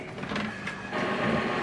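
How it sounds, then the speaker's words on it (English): An HP OfficeJet Pro 9019e printer runs steadily nearby, a continuous mechanical whir with rhythmic rattling pulses that grows slightly louder partway through, with no talking. "just checking the printer"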